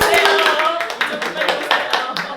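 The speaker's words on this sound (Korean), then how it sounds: "박수로 환영하겠습니다" A small audience at a Gyeonggi provincial council talk show claps to welcome a council member, a short burst of brisk, close handclaps mixed with voices.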